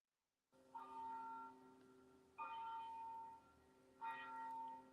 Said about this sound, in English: This loud bell is in the background.